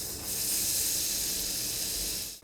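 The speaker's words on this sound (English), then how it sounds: "Now the butter's just going to brown slowly." Butter sizzling and browning in a pan for a sauce, a steady close hiss with bright crackling that holds evenly before tapering off at the end.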